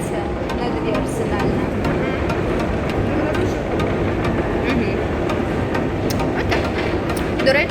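A Dnipro metro train rumbles and rattles steadily along the track, with faint clicks of the cars over the continuous noise.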